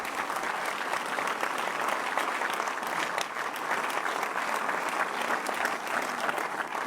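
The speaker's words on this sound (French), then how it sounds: "On t'applaudit Clotilde" Sustained, dense applause from a large crowd at a French political rally before a second-round election, steady and loud throughout with no gaps.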